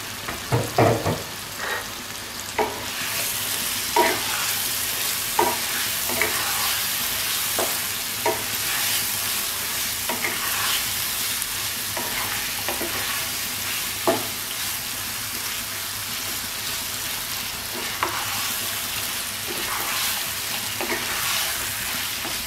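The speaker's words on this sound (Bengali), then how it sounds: "মাংসের সাথে মশলাগুলো খুব ভালো করে মিশিয়ে নিয়ে" Mutton pieces being stirred and fried with spices in a pan: a steady loud sizzle punctuated by repeated scraping strokes of a spoon, irregular but frequent over a long stretch.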